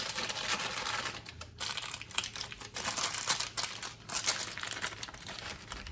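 A sturdy gelatin-enriched egg dough sheet is peeled off a surface, giving a continuous close crinkling and crackling texture with no talking.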